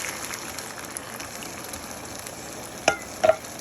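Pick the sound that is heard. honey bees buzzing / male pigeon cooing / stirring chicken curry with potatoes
stirring chicken curry with potatoes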